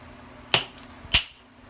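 Two sharp, ringing percussion strikes of a hammerstone on stone during flintknapping, knocking off a square edge, close and clear with a faint tap between them, no talk.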